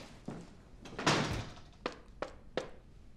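Knocking on a door in a war-drama scene: after a dull thud, three quiet, evenly spaced knocks sound close by in an otherwise quiet room.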